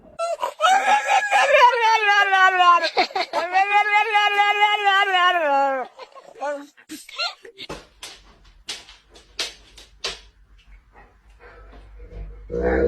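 A pet dog vocalizes in long, pitched, wavering howls and moans that sound almost like speech, loud and close, followed by a person talking with clicks and scattered noises.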